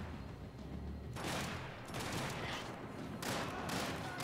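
Enemy gunfire aimed at the player in Max Payne 3, bursts of rapid shots arriving in several loud volleys separated by brief lulls.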